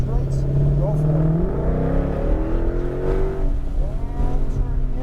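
Shelby GT500 on the New Hampshire Motor Speedway track, its engine droning and building steadily in pitch as it accelerates out of a turn, loud and continuous beneath an instructor's talking.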